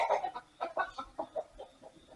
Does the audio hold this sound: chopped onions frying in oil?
no